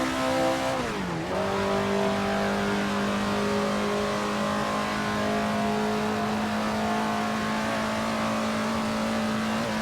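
A 1930s Maserati race car at historic Monza in Assetto Corsa, its engine dipping briefly after a gear change, then holding a loud, steady, buzzy drone at high revs.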